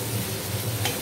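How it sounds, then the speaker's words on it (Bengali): Potatoes frying in a pan for a crab malai curry, stirred so they brown evenly, a soft steady sizzle with light stirring scrapes, close and brief, no talk. "এবার আমি একটু ভালো করে নেড়ে দেবো, আলুগুলো যাতে"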